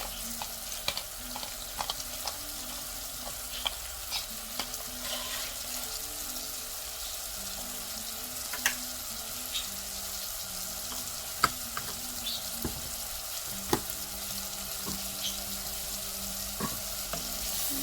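Onions frying and being stirred in a pot for butternut squash soup, a steady sizzle with scattered utensil scrapes and taps against the pot, close and continuous, without talk.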